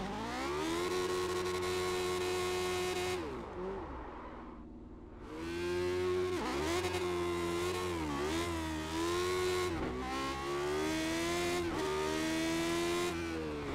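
A sim racing car in a video game accelerates through the gears, its engine revving up in rising sweeps, falling quiet briefly at a shift, then climbing again through several more gears, loud and close throughout.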